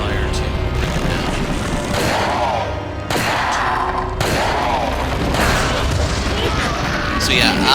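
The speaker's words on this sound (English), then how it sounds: "I'll take the hit here just because I got to unload the entire Magnum into him" Magnum revolver fire in Resident Evil 4 on the Wii, several loud booming shots spaced a second or so apart over continuous game noise and a voice talking.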